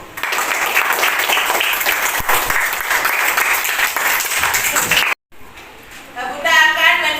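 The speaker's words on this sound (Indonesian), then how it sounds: "Tepuk tangan kepada kelompok 1." Children in a classroom clap for a group of classmates, a dense burst of applause lasting about five seconds that cuts off abruptly, followed by quieter room sound and a voice.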